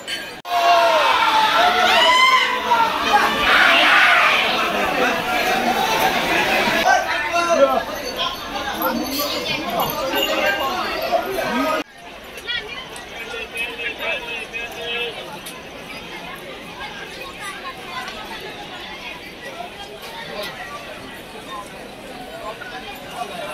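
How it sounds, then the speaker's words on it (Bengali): A dense crowd fills Mecheda railway station while waiting for a train, with loud overlapping chatter and clinks. The crowd noise drops abruptly to a quieter, steady hubbub halfway through. "এই মুহূর্তে আমরা দাঁড়িয়ে রয়েছি মেছেদা স্টেশনে, আর ভিড়টা জাস্ট দেখো।"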